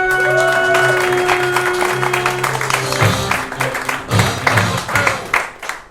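Audience applause at a comedy club in Utrecht for comedian Stephen Morgan, a dense, steady wash of clapping that gradually thins into scattered claps, with some background music and crowd noise underneath.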